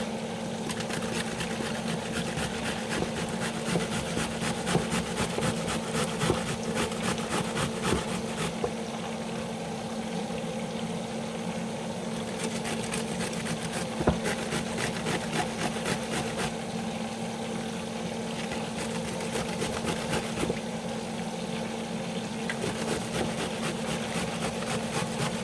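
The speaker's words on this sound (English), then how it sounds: "I'm almost finished grating my cabbage" Purple cabbage being grated by hand at home, with steady, rhythmic scraping strokes repeating over a constant low background hum.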